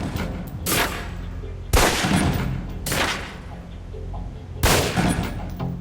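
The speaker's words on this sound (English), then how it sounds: "Equip the pistol, then aim down range and take some shots at the target." Four loud, sharp pistol shots spaced about a second apart, each with a short echoing tail, fired at a target on a training range in the video game Alpha Protocol, over a steady ambient background.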